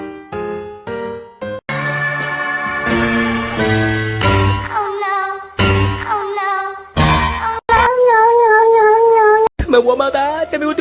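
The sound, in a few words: cat meowing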